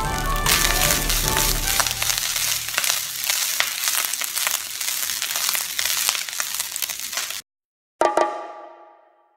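Frozen fried rice sizzles and crackles loudly in a stainless steel pan, with scraping and stirring for several seconds. It cuts to silence, then a metallic clang rings out and slowly fades.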